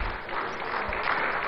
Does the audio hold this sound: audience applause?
yes